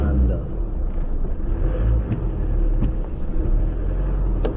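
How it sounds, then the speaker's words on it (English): A Fiat Panda drives through a deep water channel with a steady, close, low rumble of engine and water wash, without any distinct splashes. "I know this is a deep little channel. I'm driving through it in the Panda."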